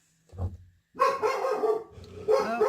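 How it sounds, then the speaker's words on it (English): A dog barks close by, one short bark followed by a longer run of loud barking with a brief pause between. "Now there's my dog."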